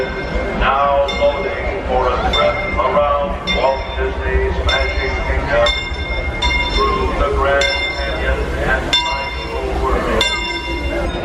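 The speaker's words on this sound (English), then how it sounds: "Heading up to go ride the railroad." Disneyland's railroad train clanks and rolls with metallic clinks and ringing, bell-like tones repeating throughout. People chat nearby over the rhythmic rail noise.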